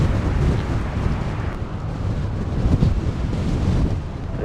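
Gusty wind buffeting an outdoor microphone at Minneapolis–Saint Paul airport during a crosswind day, a steady loud rumbling roar with brief swells and no speech.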